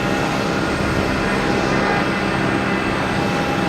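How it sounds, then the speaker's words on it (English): Alaska Airlines jet pushing back at Boston Logan Airport, a loud, steady engine roar and broadband rumble that holds constant throughout with no voices. "We got Alaskan Airlines backing up here in front of us"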